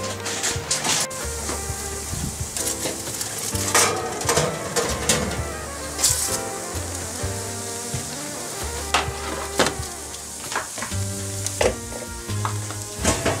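Rice paper rolls with a filling, just out of the oven, sizzling and crackling hot, a steady close fizz with scattered pops and occasional handling noises, set against soft background music.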